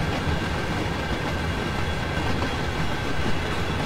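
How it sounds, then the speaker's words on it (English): A train moves slowly in the Train Sim World 2 video game, producing a continuous, fairly loud rumble and rolling rail noise with no clear pauses. "and you're gonna stop the train before you touch the trailers"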